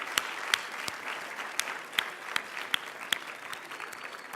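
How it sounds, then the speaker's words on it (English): A gala audience in Washington, D.C. gives a round of applause for the evening's honorees, a moderate, fairly sparse clapping with distinct sharp claps standing out, heard from a short distance. "And how about another round of applause for each of our honorees tonight"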